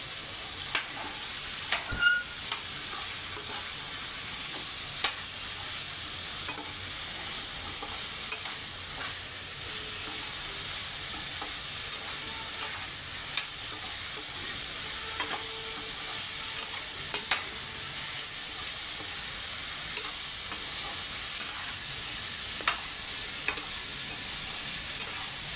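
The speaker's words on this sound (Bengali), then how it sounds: "গ্যাসের ফ্লেমটা কমিয়ে রেখে আমি অল্প অল্প করে ভেজেছি" Vegetables with beans stir-fried on a low flame for pav bhaji, an even close sizzle with frequent light clicks and scrapes of a spatula against the pan, no voices present.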